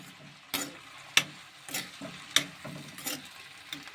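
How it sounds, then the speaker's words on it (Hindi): Kiwirao vegetable with chili, coriander and salt being stirred in a pan, with a few sharp spoon clinks and scrapes over a soft sizzle, close and fairly quiet. "इसमें मैंने मिर्च धनिया नमक सब कुछ डाल दिया है और अब इसको मिलाते हैं"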